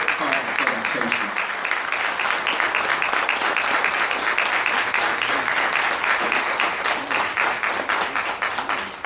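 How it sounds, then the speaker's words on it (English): Audience applause greeting a presenter at a talk on the legacy of the Haitian Revolution, loud dense clapping sustained throughout, with a voice briefly heard at the start. "Strong round of applause to our stage for a powerful presentation."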